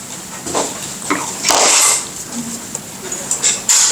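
Cheap Walmart scissors snip through a block of craft fur for fly tying, a series of close, crisp cuts and rustling swishes at an uneven pace.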